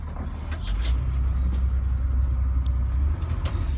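A school bus accelerating forward to about 5 miles an hour for a service brake check, with a deep, steady engine rumble that builds and holds, close and loud, with a faint squeak here and there.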